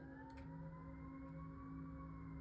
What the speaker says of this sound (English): Siren, yeah.